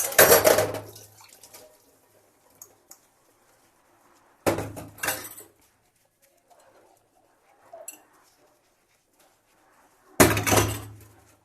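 Dishes and utensils are being washed in a village home, with three separate bursts of clattering pots and metal pans clanking close by, separated by quiet pauses and a few light knocks.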